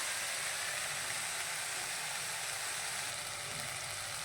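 Coriander leaves sauté in a pan for a green peas gravy with a loud, steady, hissing sizzle that runs unbroken and close by, with no voices.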